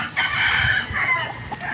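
Roosters crow in sustained, loud calls with clucking mixed in, close by in a breeding pen of broodcocks and hens.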